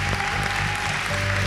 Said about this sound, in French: on pourrait applaudir un peu plus fort